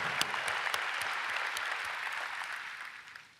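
An audience at LinkedIn's Talent Connect 2018 conference applauds, a broad wash of clapping with a few sharper individual claps standing out, holding steady and then slowly fading.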